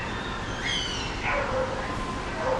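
A big dog gives faint whines and yelping barks while a small dog has its nails clipped indoors, thin high cries rising and falling a few times over a steady background hum.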